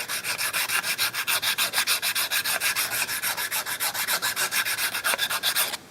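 A G10 knife handle being sanded by hand, rhythmic rasping strokes repeating rapidly and evenly, close and loud, with no talking.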